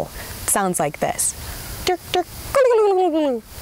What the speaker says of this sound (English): For the wild turkey, listen for your very obvious gobble.